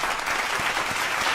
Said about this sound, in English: let's give a round of applause to Dan over here